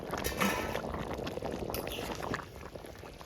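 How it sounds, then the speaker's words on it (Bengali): Fried bhetki fish pieces slide into a simmering potato and cauliflower curry, giving a soft, steady bubbling and sizzling wash that fades slightly toward the end, with no speech over it. "মাছগুলো দিয়ে দেবো"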